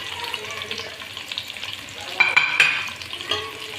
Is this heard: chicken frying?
yes